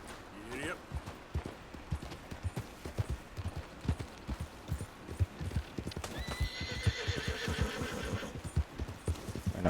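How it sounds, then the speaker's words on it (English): Horse hooves clip-clopping at a steady gallop with a whinny near the start, from a horse in the Red Dead Redemption 2 video game, close and continuous with someone talking over it. "It's my horse."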